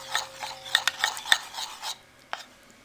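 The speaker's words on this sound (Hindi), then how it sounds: "अब हम 2 टेबलस्पून घी और 2 टेबलस्पून मैदा लेंगे और इनको अच्छे से मिक्स कर लेंगे।" Ghee and flour being mixed by hand for kachori, a soft rhythmic rubbing and scraping in a bowl with light clinks, close and fairly quiet, trailing off into near silence with one last small tap.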